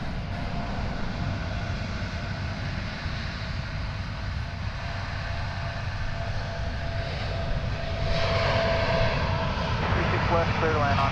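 An Envoy airliner landing on runway 36 left at DFW Airport, heard as a steady, loud jet engine roar that swells slightly toward the end, with a voice talking over it.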